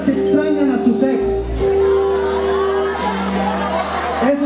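Crowd shouting and whooping at a live show in a western-style club, where many voices yell together loudly over a sustained musical tone and low thumping, with cries rising near the start and end.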